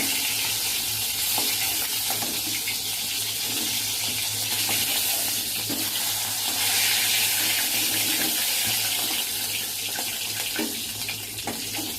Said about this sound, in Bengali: বাকি মাছগুলোও আমি ভেজে নেব